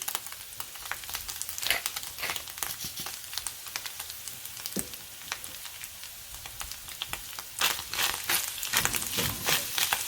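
Onions, jalapeno and other vegetables seasoned with salt and pepper fry in a pan for spicy ground beef, giving a steady close crackling sizzle with scattered sharper pops and a louder burst near the end.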